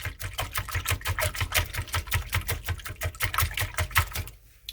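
A whisk beats buckwheat pancake batter in a bowl with quick, even, rhythmic clicking strokes. The strokes are close and moderately loud, they continue unbroken, and they stop just before the end.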